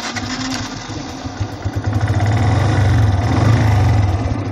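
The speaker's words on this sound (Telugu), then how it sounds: "సో నా బండి అయితే ఆన్లో ఉంది మీరు సౌండ్ వినొచ్చు" A motorcycle fitted with a waterproof GPS tracker idles with a steady low engine throb close by, growing slightly louder and rougher partway through.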